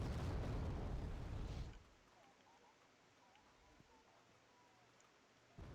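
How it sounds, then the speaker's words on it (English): Artillery fire in the strategy game Wargame: Red Dragon, a loud rumbling blast that fills the opening moments and then cuts off sharply, leaving quiet with a faint thud near the end. "the Tokchons are beginning an artillery duel"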